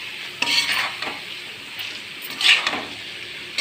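Sliced onions frying with salt and turmeric in a pan as they are stirred: scraping stirs and clattering utensils over a soft sizzle, loud in two bursts close to the pan.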